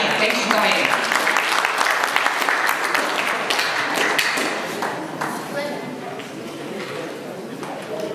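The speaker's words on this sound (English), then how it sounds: "A big round of applause for the Director of Office for Seniors," Applause for an official at a Pasifika community anniversary celebration in Auckland, with a crowd clapping densely and loudly, easing slightly midway, with voices mixed in.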